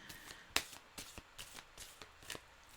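Playing cards being fan shuffled, a series of faint crisp riffles and taps spaced out over a few seconds, one sharper snap standing out, with no talk.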